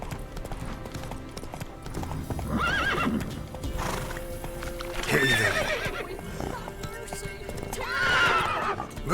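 Horse hooves clip-clop at a gallop and the horse whinnies loudly several times in the video game Witcher 3, the neighs rising out of steady hoofbeats, with brief talk mixed in.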